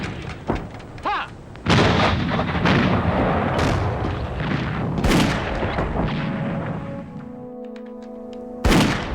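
Australian artillery guns fire in wartime, a series of loud heavy booms with rolling echoes, the first few spaced apart and later blasts close together, ending in a final sharp report.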